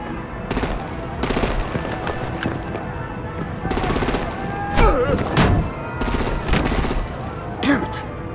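Gunfire and artillery blasts from Batman: The Enemy Within come as repeated loud bursts and booms, with several sharp impacts spread across the stretch, under a dense mix with voices and score.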